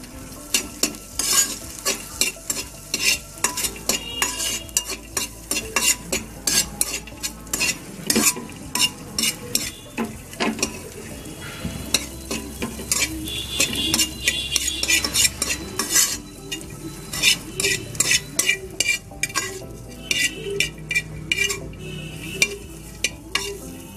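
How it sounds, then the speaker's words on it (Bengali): Dry fruits fry in butter in a pan while a utensil stirs and scrapes them in a steady, busy rhythm of metallic clinks over a continuous sizzle, close and loud throughout with no talk. "আমি ড্রাই ফ্রুটগুলো ভেজে তুলে নিয়েছি।"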